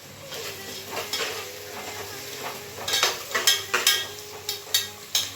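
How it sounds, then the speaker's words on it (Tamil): Onions sauté in a pan, a quiet steady sizzle broken by repeated scraping and tapping of a spatula against the metal, coming in rhythmic strokes in the second half. "வெங்காயம் நல்லா வதங்கட்டும்."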